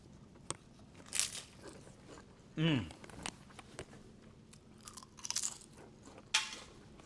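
Someone tasting Korean corn cheese dip with green onion, with close, intermittent bites and crunchy chewing that come in short bursts, alongside brief mouth noises and quiet vocal sounds.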